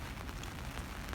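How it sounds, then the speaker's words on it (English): Steady rain falling outside, a dense, even hiss of drops on surfaces with a low rumble underneath, continuous and moderately loud, with no talking. "It's nice and rainy."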